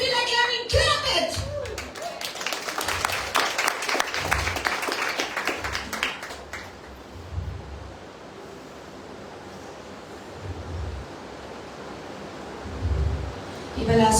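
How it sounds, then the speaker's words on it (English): An audience at a Sunday evening church retreat in Margao bursts into loud, dense clapping for about six seconds, then fades to a quieter room with scattered claps and occasional voices. "If you feel like clapping, clap it!"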